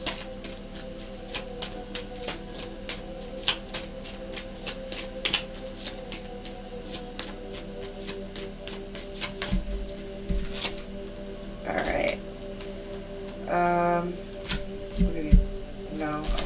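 Tarot affirmation cards are shuffled and handled in a series of soft, rhythmic riffling clicks at close range, with a steady low hum underneath and a few louder handling rustles near the end.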